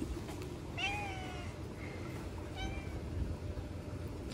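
A stray cat at a sports club in Istanbul gives two soft meows close by, one around a second in and another near the middle, over faint background noise.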